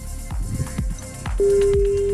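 A telephone call is placed: dull knocks and thumps give way midway to a steady single-pitch line tone that holds, loud and clear, until the end.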